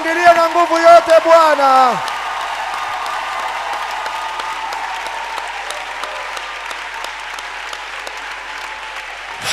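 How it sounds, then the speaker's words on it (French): A standing congregation at a Friday evening prayer meeting applauds loudly, a broad continuous wash of clapping that swells after a sung or shouted phrase and carries on steadily to the end. "Acclamons très fort."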